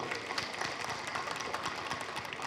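A crowd claps steadily and densely for the associate NCC officer at a school NCC passing-out ceremony at SKM HSS, Kumarakom, the applause filling the whole stretch at an even level with no voices over it.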